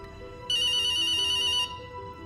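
Cartoon phone ringtone from a JoJo anime scene: a bright electronic ring sounds for about a second over a quiet background, ending with a short click.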